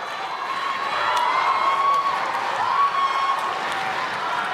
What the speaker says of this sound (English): the crowd are delighted